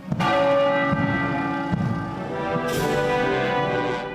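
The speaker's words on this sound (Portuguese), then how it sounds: "o sino da torre do castelo deram tom das homenagens" A church bell in a castle tower rings out loud and resonant during a ceremony of national homage, its long humming overtones sustaining between strokes with a second strike partway through, and no voices over it.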